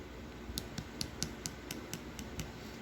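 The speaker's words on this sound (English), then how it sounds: "Once it starts making that really good clicking noise, that's how you know that it is ready" An acrylic brush handle tapping on a dry acrylic nail gives about nine sharp, light clicks at a steady pace. They sit close and alone over a low background hiss.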